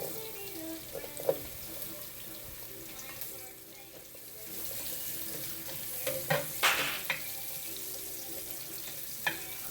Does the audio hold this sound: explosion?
no